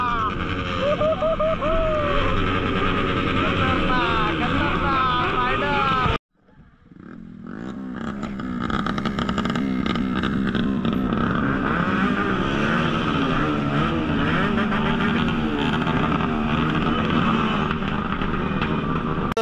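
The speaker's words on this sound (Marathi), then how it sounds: "इथं जोरदार बाईक चालू आहे" Loud superbike engines roar and rev continuously nearby, with a brief cutout before the growl builds back up; a voice talks over the noise.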